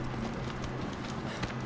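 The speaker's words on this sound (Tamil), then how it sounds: "இன்னும் குதிரை உள்ளே வர மறுக்குது" In the Shadow of the Colossus video game, a horse's hooves clip-clop in a steady, quick rhythm under a constant noisy background.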